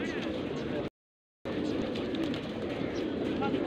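Pigeons coo amid a crowd at a pigeon flying competition with about a thousand birds, soft repeated calls mixed into busy outdoor noise and chatter, broken by a short silent gap.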